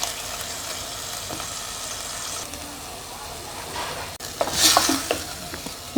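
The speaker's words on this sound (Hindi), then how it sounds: "कीमे को 2 से 3 मिनट के लिए घी में फ्राई करेंगे।" Beef mince (qeema) fries in ghee while being stirred, giving a steady close sizzle with scraping stirring strokes that grow louder and busier toward the end; no voices.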